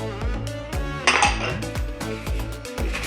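A spoon scrapes and clinks against a dish while toasted flax seeds are stirred together with cumin and coriander, giving close, steady metallic taps and rattles in an irregular rhythm with no talking.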